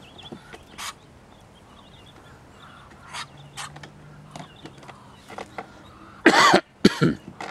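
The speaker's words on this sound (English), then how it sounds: "Excuse me for the cough." A couple of sharp, loud coughs near the end, following scattered faint clicks and rustles in an otherwise quiet setting.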